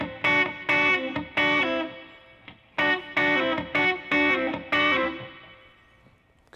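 Electric guitar playing a chicken pickin' lick very slowly, with sharp snapped plucks in short clusters separated by brief pauses and a ringing decay at the end, close and clear with no speech.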